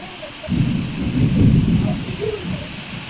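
Thunder rumbles low and long over continuous heavy rain in a storm, one sustained roll building and fading under the steady wash of falling water.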